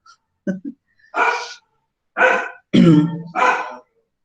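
A dog barks nearby in several loud, separate bursts spread over about four seconds, alone without talk.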